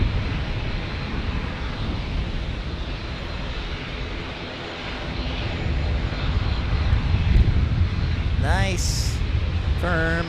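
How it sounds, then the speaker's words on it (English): A Boeing 787 Dreamliner airliner lands in San Diego, its broad engine roar steady and loud throughout, swelling slightly toward the end, with a person talking over it near the close. "Our first 787 of the day."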